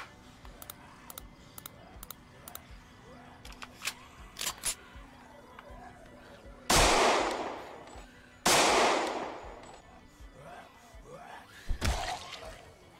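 Gunfire in the zombie survival game Project Zomboid: two loud, sharp broadband blasts with long decaying tails, then a third shorter shot, set against scattered quieter clicks and background ambience.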